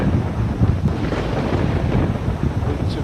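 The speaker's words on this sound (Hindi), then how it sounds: "कुछ बारिश का मौसम हो रहा है, कुछ तूफान आंधी और बिजली कड़क रही है।" Stormy wind in rainy, thundery weather, roaring steadily and buffeting the microphone for the whole stretch, loud and close with no gaps and no voices.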